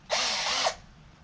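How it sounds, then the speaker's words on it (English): A power drill bores a hole through the side of a camping van for a solar panel wire, one steady loud whir lasting about half a second before cutting off, close and alone. "we're going to drill a hole for where the solar panel wire is going to come in"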